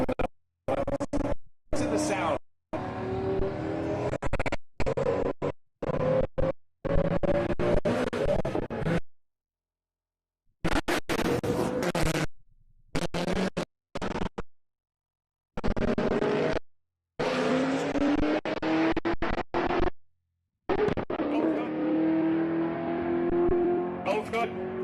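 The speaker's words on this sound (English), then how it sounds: "Looks like a Gallardo in the right lane, the Corvette C6 in the left. The Gallardo sounds so much different." Engines of a Lamborghini Gallardo and a Corvette C6 at a street racing event, heard in choppy bursts of revving and acceleration broken by silent gaps, with people talking over parts of it.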